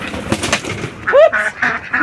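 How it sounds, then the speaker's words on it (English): Ducklings in their pen let out a quick run of soft quacks and peeping calls, close by and fairly loud, with a faint voice in the background. "Little ducklings. They're all piled up."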